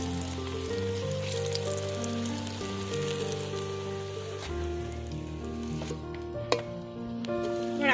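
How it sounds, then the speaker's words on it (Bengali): Mughlai paratha frying in hot oil in a kadai, a continuous dense sizzle and crackle that runs steadily throughout, with a low kitchen hum underneath and one brief sharp clink near the end. "এবারে এই তেলের মধ্যে আমি দিয়ে দেব মোগলাই পরোটা।"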